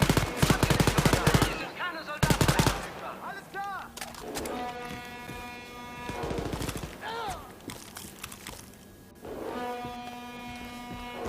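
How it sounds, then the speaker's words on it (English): Automatic weapon fire in Wolfenstein: Youngblood, loud rapid bursts of machine-gun shots at the start, then more volleys mixed with enemy voices and electronic tones, with a steady hum underneath. "Let's shoot some Nazis."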